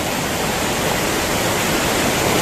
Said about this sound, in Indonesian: Ini namanya air terjun Singokromo yang berada di Gunung Wilis.